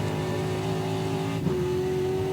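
A Trans Am Series race car's engine drones loud and steady at Symmons Plains, then a brief dip marks a gearshift before the note climbs again on an uphill section.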